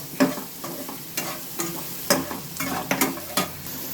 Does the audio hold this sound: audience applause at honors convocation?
no